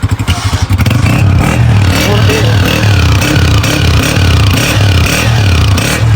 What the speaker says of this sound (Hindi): हुन अस सुनांदे अपने मोटरसाइकिल का साउंड